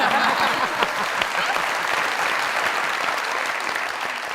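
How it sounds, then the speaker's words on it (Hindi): A studio audience at a television talk show claps loudly and steadily, a dense wash of applause that holds evenly and then eases slightly toward the end. "जरा तालियां मोहब्बत"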